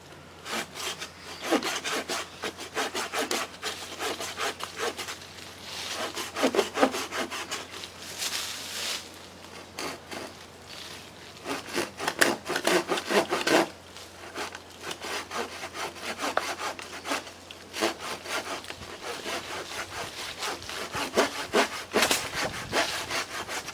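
Dry cedar wood is sawn by hand in irregular bursts of rasping strokes, close and fairly loud, with short pauses between runs.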